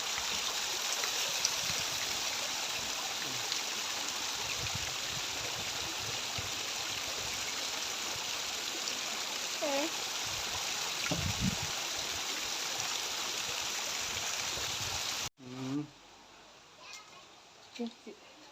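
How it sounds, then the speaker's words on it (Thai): Steady rushing water fills the scene, a continuous broadband roar like a waterfall, with children's voices and chatter faintly mixed in; it cuts off abruptly near the end. "ก็จะมีน้ำตกด้วยนะครับ"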